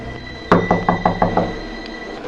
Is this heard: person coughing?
no